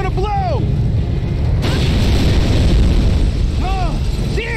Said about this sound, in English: Those tanks are gonna blow!